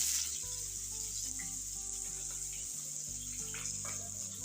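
Chopped onions hit hot oil in a pan while cooking pork with bamboo shoots, giving a steady, close sizzling hiss that carries evenly throughout, with a low tonal hum underneath.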